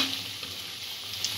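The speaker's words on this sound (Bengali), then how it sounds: "এইভাবে ভেজে নেব। খুব বেশি ভাজার দরকার নেই।" Paneer cutlets frying a few at a time in oil over a medium-low gas flame, a soft steady sizzle that lasts only a moment.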